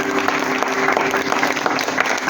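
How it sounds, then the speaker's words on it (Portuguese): A church congregation claps in praise, a loud, dense burst of applause close by, with a faint sustained tone running underneath. "Aplauda o Senhor."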